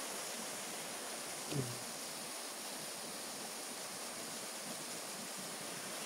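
Steady broadband rush of water from Manadlam Falls in Antipolo, a constant outdoor roar heard from above the falls, with one brief low bump near the start and no talking.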